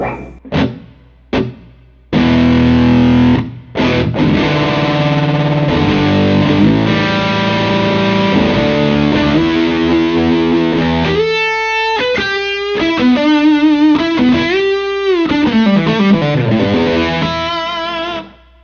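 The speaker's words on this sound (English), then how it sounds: "Here's some reverb." A few muted string hits, then an overdriven electric guitar on a pedalboard rings out through a reverb pedal with a spacious tail, playing sustained notes and sliding bends.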